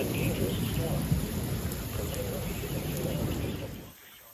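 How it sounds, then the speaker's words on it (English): Severe thunderstorm with heavy rain pouring steadily and thunder rumbling low underneath, loud and continuous before dropping away abruptly near the end. "This is a dangerous storm."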